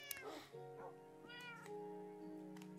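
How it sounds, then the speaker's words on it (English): A Minecraft ocelot meows in a series of short, tonal, harmonic cries, several in a row over about three seconds, clear and fairly close with no talking over them. "This is my first ocelot, but I saw two ocelots then. This is the same cat as Stampy's got"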